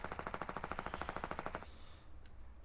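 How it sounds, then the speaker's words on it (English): Rapid burst of automatic fire from the new SMG in Fortnite Battle Royale, a fast even rattle of shots lasting about a second and a half before stopping, fairly close and alone. "Oh my god, that is the new SMG."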